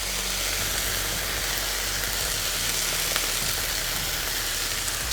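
Red peppers and jalapeno sautéing on a hot flat top griddle, giving a steady, dense sizzle that holds evenly throughout without any talking.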